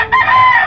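A rooster crows once, loud and close, a brief strained call with no other sounds around it.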